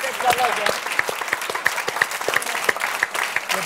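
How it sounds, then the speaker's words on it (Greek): Audience applause at a Greek music tribute show, a dense burst of close, sustained clapping across the whole span with sharp individual claps standing out. "Παιδιά, λέω να χειροκροτήσουμε τώρα"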